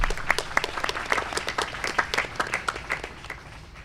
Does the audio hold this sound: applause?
yes